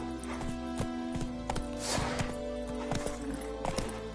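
Roach, a horse in the video game The Witcher, moves with rhythmic hoof clip-clops over a steady humming backdrop, the hoofbeats close and even throughout.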